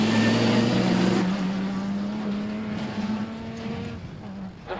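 Unifreight Ford Ranger rally truck driving in the Sun City 450 desert race, a loud steady engine drone with shifting pitch heard from on board.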